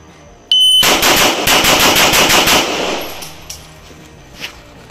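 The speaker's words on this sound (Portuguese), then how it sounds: "vamos fazer um desafio aqui, 10 tiros em menos de 3 segundos" A rapid burst of ten sharp rifle shots fired in under three seconds, loud and close, from a rifle fitted with a Timney trigger, with a brief ringing tail and a couple of faint clicks afterward.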